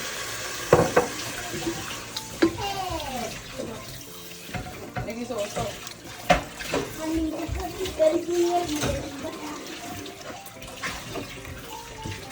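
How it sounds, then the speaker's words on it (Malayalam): Soaked kudampuli tamarind water pours into a pan of fish curry, a steady liquid splash and trickle with clinks of utensils through much of the stretch. "കുടംപുളിയും വെള്ളവും കൂടെ ഒഴിക്കുക."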